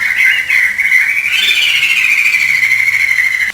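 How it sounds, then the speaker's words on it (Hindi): Cartoon birds singing, heard as a loud, continuous high warbling whistle that rises slightly in pitch partway through, with no talking. "सभी पक्षी पास ही बैठे संगीत गा रहे थे"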